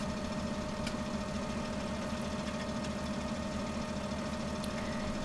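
A tractor engine idles steadily in Farming Simulator 17, a constant low mechanical drone with a rapid knocking pulse, heard alone with a few faint clicks over it.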